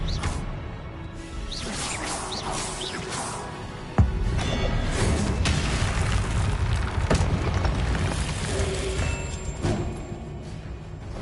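A sudden loud blast of the Expelliarmus spell in Hogwarts Legacy, a single sharp boom with a whooshing rush, set in a dense, rumbling duel soundscape.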